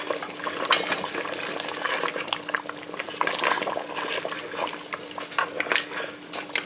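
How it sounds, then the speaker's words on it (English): A spoon stirs through a simmering pot of gummy cowfoot with butter beans. Soft bubbling runs throughout, broken by repeated scraping clinks of the utensil against the pot, close and moderately loud with no voices. "So butter beans in. Last step. Give it a stir."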